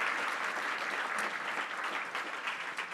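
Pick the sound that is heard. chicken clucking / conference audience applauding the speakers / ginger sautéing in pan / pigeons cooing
conference audience applauding the speakers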